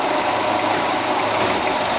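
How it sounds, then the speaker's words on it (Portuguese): Fiat Palio Weekend 1.6 16v engine running with a worn engine mount, a steady, close, dense mechanical rumble and hiss throughout with no talking. "Faz o esquema aí pra gente ver o motor dele balançando."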